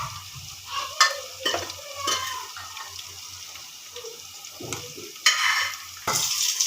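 Green chillies and onions frying in hot oil with turmeric, a steady low sizzle broken by several sharp scraping stirs of a spoon against the pan, close and fairly quiet.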